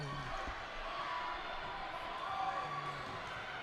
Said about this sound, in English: We've got a lot of cheering.